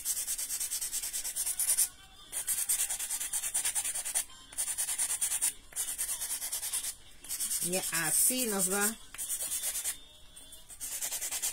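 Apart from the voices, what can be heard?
sanding cut edges of a craft piece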